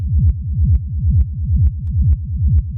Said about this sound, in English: and then we have the rumble inside of that same group